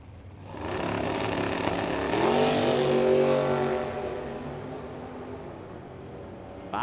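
Drag racing car engine at a drag strip, revving loud and near with a rising pitch that climbs, peaks, then eases off into a steady drone over nearly seven seconds.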